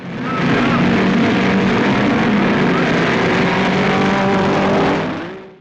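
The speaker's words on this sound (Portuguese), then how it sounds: "À medida que os motores rugiam na largada, Tony Brooks, com sua Ferrari 246F1, disparo" Racing car engines at the start of a Grand Prix at Reims, including a Ferrari 246 F1; a loud, sustained roar fills the whole clip with no break.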